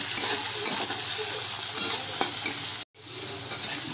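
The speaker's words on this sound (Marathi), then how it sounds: "आता आपण त्यात टोमॅटो टाकूया, टोमॅटोमध्ये जरा या मीठ टाकूया" Tomatoes with salt fry in a hot pan in which spices have already crackled, giving a steady loud close sizzle with scattered pops and light stirring clinks, broken once by a brief silent gap.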